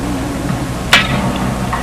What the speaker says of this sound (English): when it clicks like that, means you've slipped the clutch at whatever setting you have